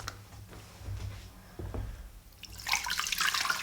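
Water poured into a slow cooker over split peas, a soft low trickle and splashing that grows brighter and louder toward the end.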